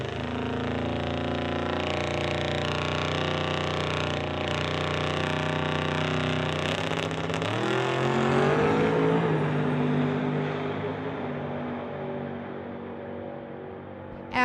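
A street-legal drag racing car on street tires roars through a full quarter-mile pass, its loud sustained engine howl dominating, then the tone climbs and shifts as it accelerates past and fades slightly toward the end.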